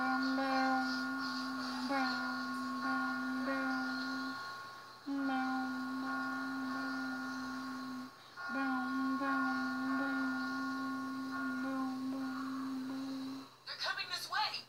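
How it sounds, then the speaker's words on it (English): A bell rings in The Walking Dead video game, a sustained steady tone holding for several seconds with brief breaks, clear and moderately loud, ending in a short burst of clattering noise. "Ring the bell."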